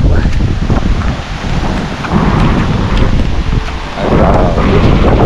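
Heavy rain pours down during a typhoon, a dense, steady roar with gusty swells close to the microphone, wind buffeting it throughout.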